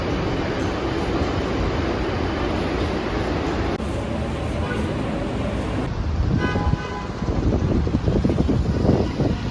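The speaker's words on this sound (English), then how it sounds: "let's go catch this train" Steady rumbling of a moving train in New York City with broadband rattle and hiss, close and continuous, with a brief tonal horn-like toot near the end.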